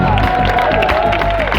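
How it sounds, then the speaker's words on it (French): Concert audience applauding and cheering at a live show, a loud, dense wash of clapping and crowd noise with a sustained voice riding over it. "Bon, on l'applaudit quand même parce qu'il est sympa,"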